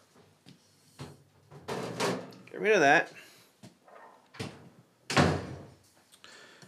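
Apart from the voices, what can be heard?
doors being slammed in the house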